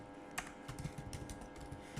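Quiet, quick tapping on a computer keyboard as a heading is typed, a light run of clicky keystrokes close by with no voice.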